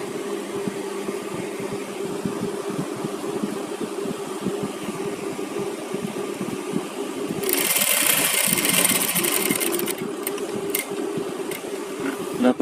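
A sewing machine hums steadily as it stitches along fabric edges while making clothes, then breaks into a louder, faster whirring burst partway through before easing back to its quieter drone.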